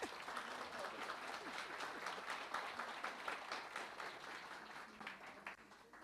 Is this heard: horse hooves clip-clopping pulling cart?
no